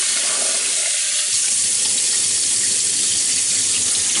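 Tap water runs hard into a sink while freshly made butter is rinsed under it, making a loud, steady splashing rush close by for the whole stretch.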